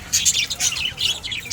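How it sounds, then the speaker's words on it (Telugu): Parrots at a crafts village park give bright, squawky chirps in quick bursts, fairly close and lively, with no talking over them. "చిలుకలు చూడండి ఎంత బాగా సౌండ్ చేస్తున్నాయో"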